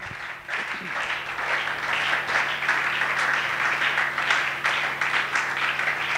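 A church congregation applauds during a Sunday worship service, a steady, dense wash of many hands clapping that fills the room at moderate distance with little else heard.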